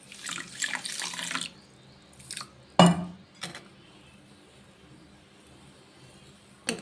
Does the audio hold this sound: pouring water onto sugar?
yes